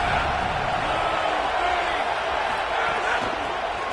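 A steady roar from a packed stadium crowd at a Rutgers football game fills the air as fans back the defense near the goal line.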